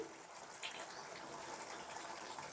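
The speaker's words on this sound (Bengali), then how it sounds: "ওপর থেকে আমি আরেকটু হাফ বাটির মতন জল দিয়ে দিচ্ছি" Water poured from a half bowl into a simmering dhaba-style egg curry made with stone-ground spices, a soft, steady splashing and gushing of liquid, faint and continuous.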